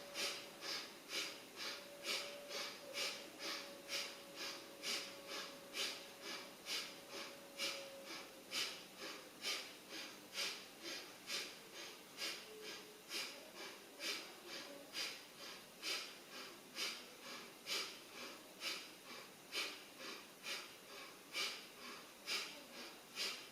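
Forceful rhythmic breathing from a children's yoga exercise, sharp in-and-out breaths repeating steadily about once per second, close and loud, with no talking.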